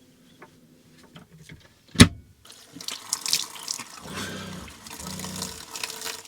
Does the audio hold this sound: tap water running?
yes